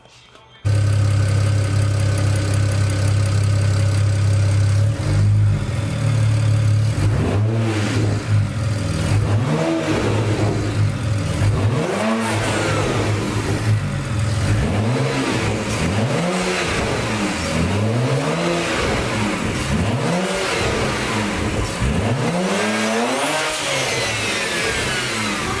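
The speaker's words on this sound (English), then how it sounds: "Did you hear that turbo?" BMW N54 turbocharged engine with a Tial blow-off valve, idling loudly then revving repeatedly in rising and falling bursts, with turbo whoosh and valve chatter layered over the close engine drone.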